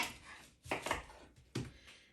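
Leeks being cut on a cutting board with a knife, a few quiet, separate thuds and crunches spaced apart, close by and soft.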